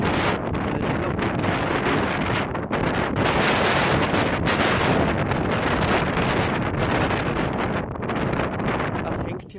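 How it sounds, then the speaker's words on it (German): Strong gale-force wind with rain on the island of Sylt roars steadily and loudly, buffeting the microphone in dense, unbroken gusts that fill the whole stretch. "Regen Windstärke 12 erreicht."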